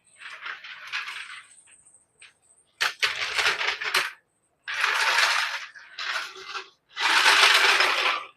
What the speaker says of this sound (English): The loudest tool in existence, the floor jack.